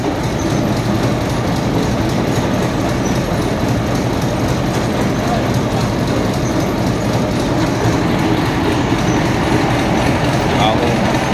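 An old small-engined vehicle starts up and runs, giving a loud, steady, rumbling and clattering drone close by that continues unchanged throughout, with no clear pauses.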